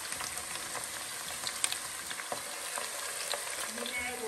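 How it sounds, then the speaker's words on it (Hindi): Onions for chole fry and begin to brown in a pan, producing a steady close sizzle with small crackles and pops that runs without a break for a few seconds. "अभी हमारे चनों का प्याज ब्राउन होना शुरू हो गया"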